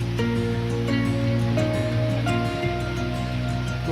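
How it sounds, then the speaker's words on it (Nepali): The Kali Gandaki river flows over rocks near a riverside viewpoint, a steady rushing wash heard close under a faint tonal hum, with no talk. "यस्तो राम्रो छ कालीगण्डकी नदी यस्तोकोमा अब यस्तो रक चट्टानमा चाहिँ बनिएको छ यति नजिक छ यो पानी"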